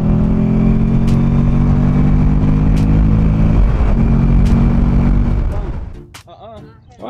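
Buell XB12R motorcycle engine revving loudly up close, a deep sustained roar with a few sharp pops, then dropping away near the end.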